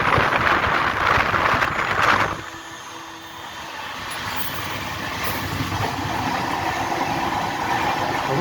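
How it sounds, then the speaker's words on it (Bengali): Passenger train pulling away from Ayodhya station after a stop, rumbling steadily with a rising clatter and rushing noise heard from on board, continuous and fairly loud with no talk. "আমাদের ট্রেন রামলালার পবিত্র জন্মস্থান অযোধ্যায় স্টপেজ দিয়ে আবার সামনের দিকে এগিয়ে গেল।"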